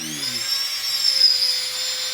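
Rotary dental handpiece trimming the midline of a custom sports mouthguard, a steady high-pitched whine held close and continuous throughout, with a brief low hum at the start.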